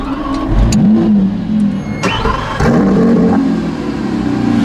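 Lamborghini Aventador SVJ engine starting up, a starter whir then a sharp loud bark and rev that settles into a rumbling idle, close and dominant.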